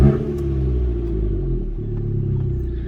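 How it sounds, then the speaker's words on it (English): Abarth 695 Esseesse firing up warm in sport mode with exhaust valves open, settling into a steady, loud, throaty idle rumble close by with no talk. "I'm going to switch to sport mode just to open up the valves, and then we are going to fire her up."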